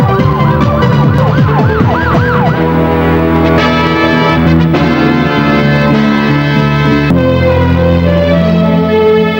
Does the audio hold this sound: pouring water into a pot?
no